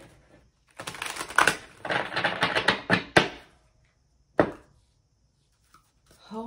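Playing cards riffle-shuffled in a bursty crackling flurry, several rapid clattering runs close by, then a single sharp final snap and quiet.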